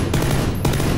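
Rapid automatic gunfire in the battle royale game PUBG Battlegrounds, a loud burst of shots fired in quick succession close up, with a couple of heavier reports standing out.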